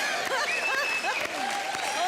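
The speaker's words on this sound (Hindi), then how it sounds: "जोरदार तालियां चेतन भगत के लिए।" Brief burst of studio audience clapping on a comedy show stage, the claps fairly faint under whooping voices and musical tones, lasting only a couple of seconds.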